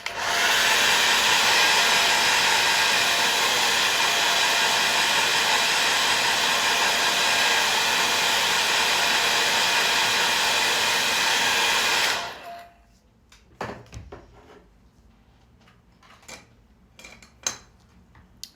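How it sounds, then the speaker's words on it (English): A hair dryer blows loudly and steadily over a watercolor painting for about twelve seconds, then shuts off, followed by a few faint clinks and small handling noises. "Going to use the hairdryer again."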